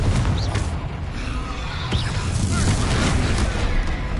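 The Confringo spell blast in Hogwarts Legacy, a dense booming explosive rumble with crackling debris that fills the whole stretch at steady loudness.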